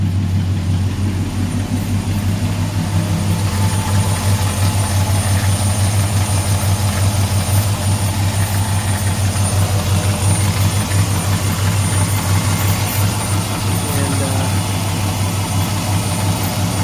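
A 2005 Dodge 1500 pickup's 4.7L engine, repaired after a blown head gasket, idles steadily and loudly nearby, a constant low droning rumble with no change in pitch throughout.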